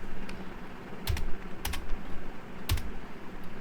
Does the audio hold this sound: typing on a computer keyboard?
yes